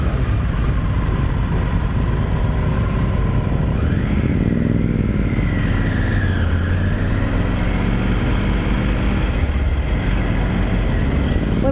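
A 2021 Triumph Tiger 900 Rally Pro motorcycle engine runs steadily and loudly throughout, with pitch rising and falling as it rides, and no talk.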